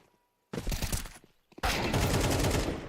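Counter-Strike gunfire cuts in after a brief silence: one short burst, a pause, then a loud, sustained stream of rapid shots continuing to the end.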